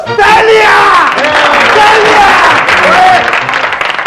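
Loud applause from a crowd, with cheering and shouts mixed in, continuous throughout.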